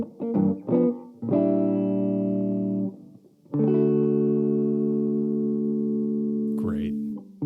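Epiphone 1959 ES-355 electric guitar on its neck humbucker, two long sustained chords ringing out after a few short plucked notes, close and clear with a slight effects sheen.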